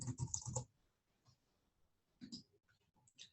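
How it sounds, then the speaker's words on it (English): Keys clatter in a quick burst on a computer keyboard while a heading is typed into a spreadsheet, followed by a pause and a second shorter flurry of taps, quiet and close. "I can type in a heading if I want"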